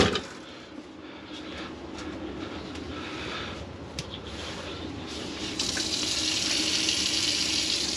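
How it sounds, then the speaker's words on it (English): Water runs from an RV faucet indoors on a 10-degree winter day, a steady rushing hiss that swells louder toward the end. "We have running water."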